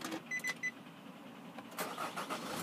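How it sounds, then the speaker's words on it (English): Grey Nissan Murano dCi diesel with automatic gearbox starting by push button, a few short clicks and chimes, then the engine catching and settling into a steady close idle. "as you can see, push start works perfectly fine"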